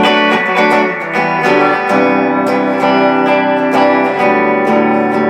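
Bright, twangy electric guitar, a Squier Bullet Mustang on the bridge pickup with treble up, snappy tone, strummed chords ringing out loud and steady with sharp pick attacks.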